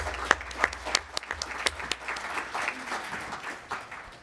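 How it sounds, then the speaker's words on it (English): An audience at the 2024 Portland mayoral debate claps for Rosa Martinez, starting with a few sharp, separate claps that fill out into a fuller, softer round of applause before gradually thinning. "Please give Rosa Martinez a round of applause"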